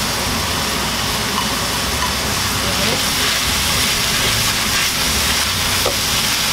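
Diced onions hit a hot pan while steamed rolled rice cakes with pork are prepared, giving a loud, steady, broadband sizzle that hisses continuously throughout without letting up.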